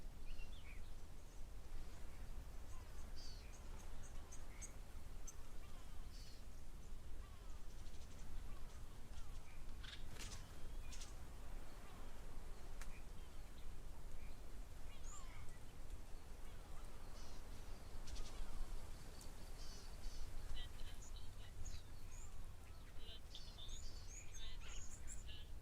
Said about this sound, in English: So many birds calling in the background.